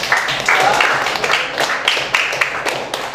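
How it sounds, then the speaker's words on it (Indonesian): A classroom group gives a round of applause for group 2, with dense, continuous clapping that runs for a few seconds and some voices mixed in. "boleh kita berikan aplaus untuk kelompok 2"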